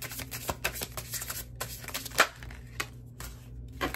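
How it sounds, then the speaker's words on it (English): A tarot card deck is shuffled by hand, giving a string of quiet, uneven riffling and flicking bursts with a sharper snap partway through, heard close in a quiet room. "I mean, it shuffles well."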